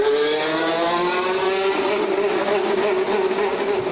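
Lotus E22 Formula One car running on track during 2014 pre-season testing in Bahrain, a loud, sustained high-pitched engine note that rises and shifts steadily over four seconds with no talk.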